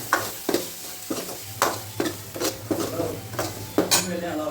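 Ginger garlic paste sautés in a pan for mutton biryani, with a spatula scraping in a steady rhythm of about two strokes per second over a close, constant sizzle.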